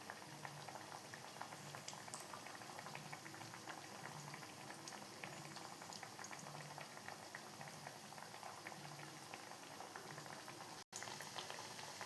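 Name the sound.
sweet potato vada deep-frying in coconut oil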